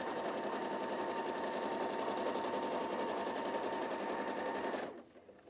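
Close, loud, continuous stitching from a sewing machine working through a self-binding quilted tablecloth, a dense, rapid, even rattle that cuts off abruptly near the end, leaving faint room noise.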